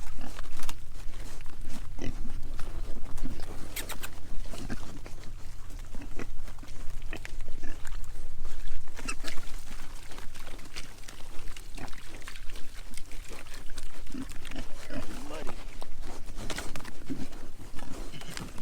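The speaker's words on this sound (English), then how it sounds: "we are here in the pig pen, and we're just feeding them some marshmallows" Pigs eat marshmallows in a pig pen, with close, continuous snuffling, grunting and wet chewing sounds over a busy background, and no talk.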